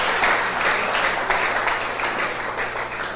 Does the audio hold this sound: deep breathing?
no